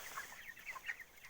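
Broiler chickens in a cold winter shed, soft scattered clucks in short bursts, faint and fairly close.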